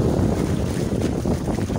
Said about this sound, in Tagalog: Malakas ang hangin at alon.